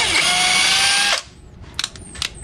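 Keelat 4-in-1 portable power tool spinning in screwdriver mode, a loud high-pitched motor whine for about a second that cuts off abruptly, followed by faint clicks and handling noises.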